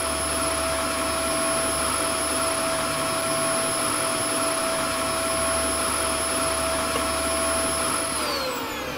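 A vacuum cleaner runs in a video game with a loud, steady whine that holds constant for several seconds before easing slightly at the end, with no talk over it.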